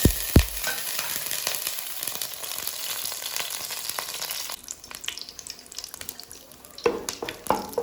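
Whole cinnamon, cardamom and cloves frying in hot oil for biryani, a steady close sizzle with scraping stirs and a few clinks, quieter crackling toward the end, no talking.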